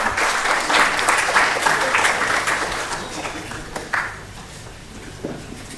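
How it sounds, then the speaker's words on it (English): An audience at a research meeting gives a round of applause, a dense wash of clapping that is loudest at first and then gradually thins and fades toward the end. "With a round of applause, let us welcome him."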